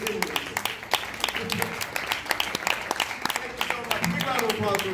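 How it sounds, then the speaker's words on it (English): Audience applause at a live magic comedy show, scattered claps spiking through the stretch beneath talk from the performer. "Big round of applause for this."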